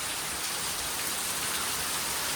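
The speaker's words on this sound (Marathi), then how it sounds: "कोकणामध्ये पाऊस आलेला आहे एकदम मस्तपैकी" Rain falling in the Konkan countryside, a soft, even patter of drops on surfaces, steady and fairly quiet, with no voices.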